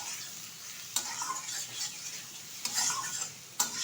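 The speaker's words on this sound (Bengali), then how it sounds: "আবার একটু নেড়ে দিচ্ছি।" Prawn and potato curry with garam masala being stirred in a pan: soft continuous sizzle with scraping stirs and a few sharp clinks of utensil on the pan, close and moderate.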